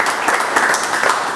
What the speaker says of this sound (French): On les applaudit parce que ça se fait.